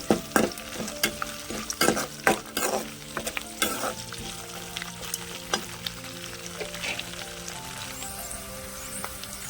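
Chana dal, cumin seeds and curry leaves frying in hot oil, with a loud crackling sizzle at first that settles into a steady fry over repeated stirring scrapes.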